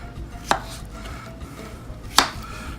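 Two sharp knife chops through an onion on a cutting board, spaced about a second and a half apart, close and distinct against quiet kitchen background.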